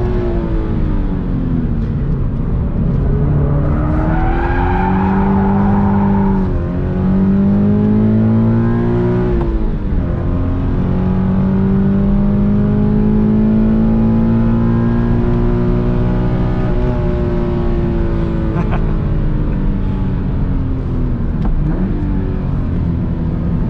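A 2020 Toyota 86 Hakone Edition heard from inside as it drives a long course, its engine droning steadily and rising and falling in pitch through gear changes and throttle, loud and close with no talk.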